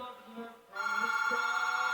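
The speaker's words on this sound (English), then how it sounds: "Ignore that phone, it's always ringing." A telephone ringing indoors, a steady electronic ring that starts partway through and continues loud to the end.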